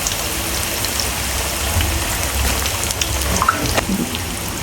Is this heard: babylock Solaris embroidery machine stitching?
no